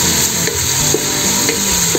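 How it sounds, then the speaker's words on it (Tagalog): Chicken being sautéed in a pan with ginger, with steady sizzling and a few stirring scrapes of a utensil over about two seconds, close and fairly loud with no talking. "Gisa-gisa muna."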